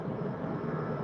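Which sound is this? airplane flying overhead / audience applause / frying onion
airplane flying overhead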